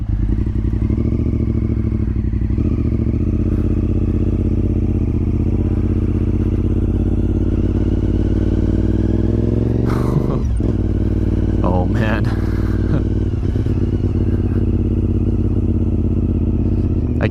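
A Honda RC51 SP2 motorcycle is ridden on a wet, cold, leaf-strewn road, its engine droning loud and steady throughout, with brief clattering bursts partway through.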